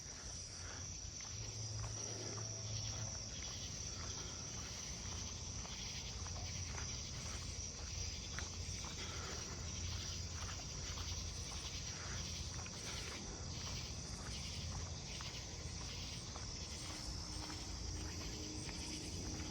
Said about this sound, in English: I think that was a striped ground cricket.